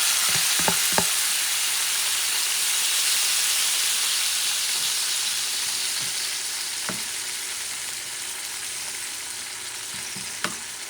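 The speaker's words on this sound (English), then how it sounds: "Couple minutes later, it comes the grated tomato." Grated tomato sizzles steadily in a frying pan over low heat for a sofrito for pork rib rice, a continuous loud frying hiss with a few soft stirring knocks, no voices.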